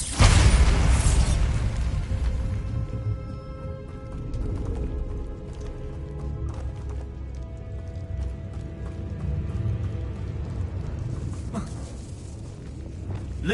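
A Bombarda blasting spell in Hogwarts Legacy goes off with a loud, close burst at the start. Rumbling game sounds and scattered thuds follow.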